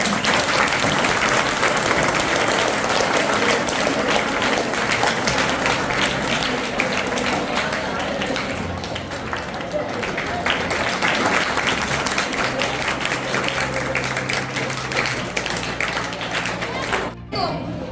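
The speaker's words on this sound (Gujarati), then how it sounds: "તાળીથી વધાવી દે." Students and guests at a high-school farewell ceremony in Bhilvan village clap to welcome a teacher, a dense, sustained burst of many hands that thins slightly midway, swells again, then cuts off sharply near the end.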